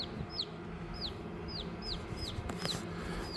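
Backyard chickens call in a regular series of short, high chirps about twice a second, fairly quiet over a low background hum and no voices.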